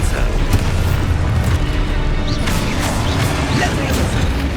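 Expulso blasting spell going off in Hogwarts Legacy, a loud, dense booming explosion with crashing debris that fills the whole moment, sustained and close, heavy low rumble throughout.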